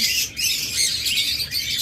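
A black rare-mutation pair of pet birds calls nonstop in a steady, shrill, squawking chatter. The calls are close and fairly loud, with short dips in between and no talking.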